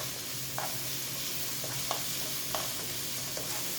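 A steady hiss of a spoonful of garlic frying in a pan, with a few soft clicks of stirring scattered through, quiet and close.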